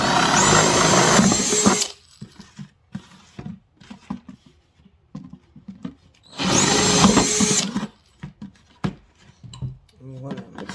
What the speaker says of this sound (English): You're gonna need a drill.